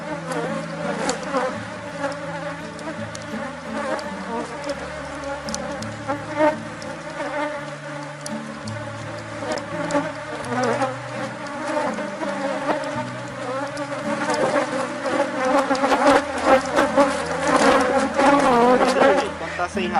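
A honey bee colony buzzing during a hive split, a dense, loud, wavering drone of many wings close by that swells toward the end, with some faint talk in the background.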